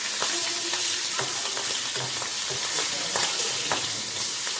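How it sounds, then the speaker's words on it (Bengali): Small prawns fry in a pan with a loud, constant sizzle, close up, punctuated by soft repeated taps of a spatula stirring them. "এইভাবে বাকি চিংড়িটাও আমি ভেজে নিচ্ছি"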